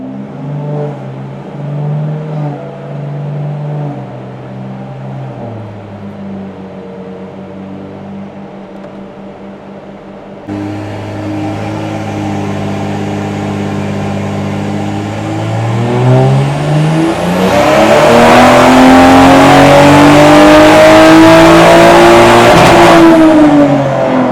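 A tuned Toyota Supra engine on a dyno idles, then revs hard and climbs steadily to a loud, sustained high-pitched roar before cutting off, very close and alone.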